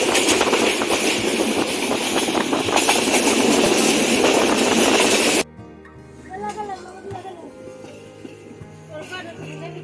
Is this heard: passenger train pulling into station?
yes